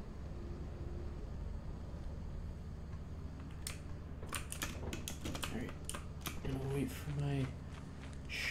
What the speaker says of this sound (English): there's not much I can do about the keyboard, sadly, since, well, this microphone picks up way too much